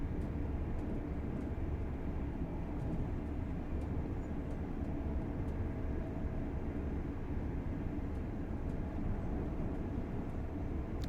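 A train on the East Coast Main Line in Train Sim World 4 runs with a steady, faint low rumble and continuous rolling noise, with occasional soft clicks.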